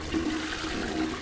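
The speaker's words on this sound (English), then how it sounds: "You can flush the toilet." A toilet flushing in the video game Bendy and the Ink Machine, a brief, loud rush of water that stays steady across the short clip.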